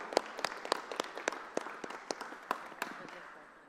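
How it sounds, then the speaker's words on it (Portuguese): An audience applauds at a civic ceremony in Curitiba, a quiet, fairly distant spatter of separate claps that thins out and fades over a few seconds. "Uma salva de palmas para o Marcos Juliano"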